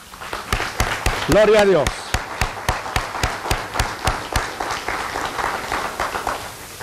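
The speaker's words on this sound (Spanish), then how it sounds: "Le damos un aplauso al Señor." A church congregation claps in a rhythmic, evenly spaced beat, loud and close, while a voice speaks and then calls out over the clapping.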